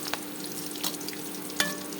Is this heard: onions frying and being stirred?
yes